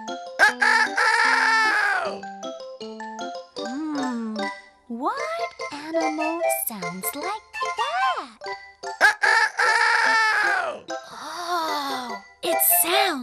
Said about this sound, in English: It sounds like crowing. Cook-a-doodle-doo! I know what animals crow like that. Roosters!